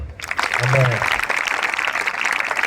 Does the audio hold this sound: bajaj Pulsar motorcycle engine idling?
no